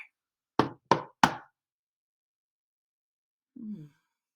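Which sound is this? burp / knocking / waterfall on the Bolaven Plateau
knocking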